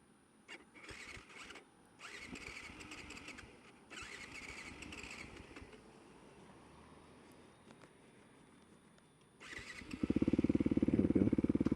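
A motorcycle engine idling in neutral, a low uneven rumble with some mechanical clatter and wind, the engine note rising to a loud, close, steady drone near the end.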